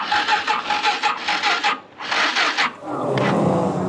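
Yamaha TW200 motorcycle with a worn battery, key turned and starter cranking: two bursts of rough grinding churn with a brief dip between, then a steadier lower mechanical drone near the end.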